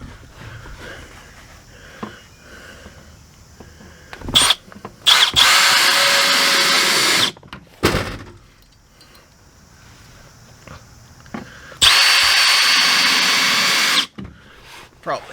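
A power drill drives screws in two sustained whirring bursts, each about two to three seconds long, loud and close, with quieter handling noises and shuffling in between.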